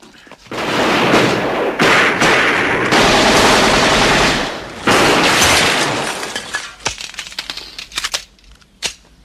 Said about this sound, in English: I hate machine guns.